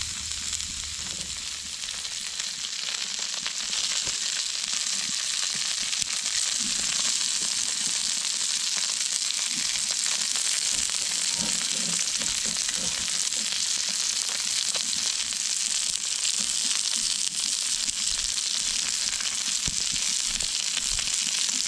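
Steaks sizzling and frying on an outdoor grill near open flame, a steady broadband hiss that holds close and fairly loud throughout with no talking.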